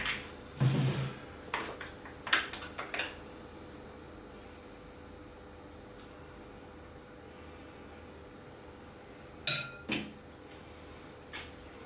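A spoon scraping and clinking against a bowl while a tomato-paste sauce mixture is stirred, in a few short bursts at the start and again near the end, with quiet in between.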